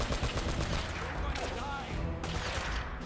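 Gunfire from Uncharted: Drake's Fortune, a dense, continuous barrage of shots and impacts holding steady for the whole stretch, with game ambience and voices layered underneath.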